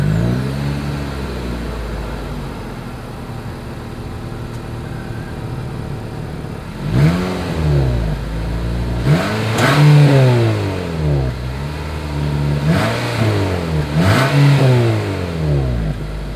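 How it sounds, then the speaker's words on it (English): A 2021 Nissan Altima AWD sedan idles low, then revs sharply several times in quick bursts, the exhaust roaring up and dropping back each time, loud and close. "As always, here is that exhaust clip."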